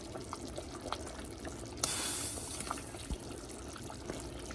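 Boiling water is poured into a container, a brief gushing splash that rises suddenly, fades after a second or so, then quiet dripping.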